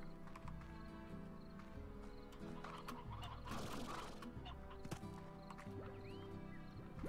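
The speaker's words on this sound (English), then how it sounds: "I can hear the chicken." Chickens cluck inside the game Slime Rancher amid a busy, steady bed of farm ambience, with hoof-like clops and other animal calls mixed in; the fowl sounds stay moderately loud and continuous across the whole stretch.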